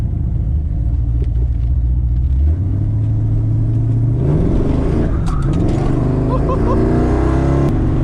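An LS-swapped C4 Corvette with a big cam rumbles at a lumpy idle, then revs up and falls back, loud and close from inside the car.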